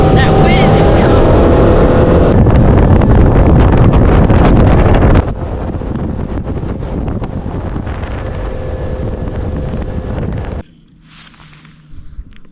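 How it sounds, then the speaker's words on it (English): Heavy wind roars and buffets the microphone aboard a boat running across coastal Georgia waters toward a fishing spot. A loud, steady rush with motor drone underneath eases slightly partway through and drops away sharply near the end. "That wind is coming."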